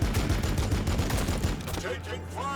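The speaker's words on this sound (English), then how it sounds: "this cannon just shreds Space Marines" Cannon fire from Imperial Guard tanks in the Battlesector strategy game, a dense rapid barrage of heavy booms and impacts that fades after about two seconds into a lower rumble with faint tonal effects.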